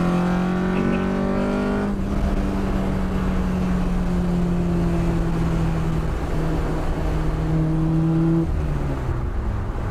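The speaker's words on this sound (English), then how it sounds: "You know what that is? The sound of that VTEC." Honda K20 VTEC engine swapped into a Mazda MX-5 on a road test drive, revving hard with rising and falling engine tones under steady road and wind noise inside the car, no talking.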